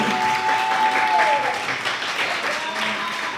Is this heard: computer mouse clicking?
no